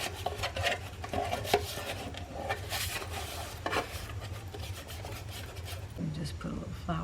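Vegan butter rubbed and scraped across metal baking pans, a steady close scuffing and rasping with occasional light clanks of the pans, over a constant low hum.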